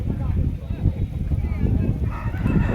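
Native roosters, including a white one, crow amid the bustle of a weekly village market at Chelur, partly under people talking nearby.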